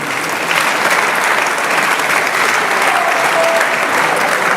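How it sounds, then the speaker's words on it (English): An audience at a biennial general meeting claps steadily and evenly for a departing speaker, a dense, sustained applause with no voices above it. "Let's clap for her as she moves on."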